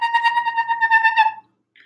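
A person imitates a small yappy dog with a quick run of high, tonal yips, about a second of rapid barks close to the microphone, then a brief faint sound after a pause.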